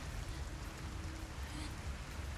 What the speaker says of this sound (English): Is the rain hurting him?